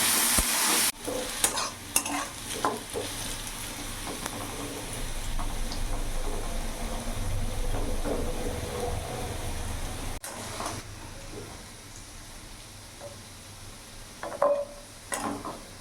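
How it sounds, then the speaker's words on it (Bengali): Diced potatoes fry in a pan with a steady, close sizzle and occasional scrapes and clinks of stirring, continuing without talk before easing off near the end. "আলুটাকে আমি লাল লাল করে ভেজে তুলে নেবো"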